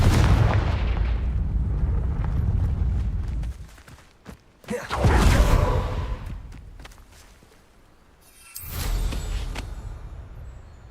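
Confringo blast spell explosions in the Hogwarts Legacy video game: a sustained rumbling boom, a second loud blast near the middle and a third burst toward the end, each heavy and close with a rolling low tail.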